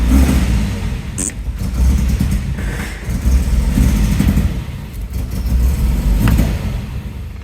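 An MGB GT engine cranks and fires up, running roughly with uneven surges and a low rumbling idle that sags and stumbles as the throttle is pressed, loud and close with no speech.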